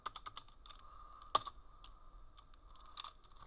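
Quiet, close keystrokes on a computer keyboard come in short bursts of clicks with brief pauses between them, including one sharper key press partway through.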